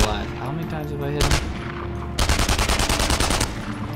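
Gunfire in the video game Enemy Front, a single shot followed by rapid bursts of automatic fire in quick repeated cracks, loud and close, separated by short lulls.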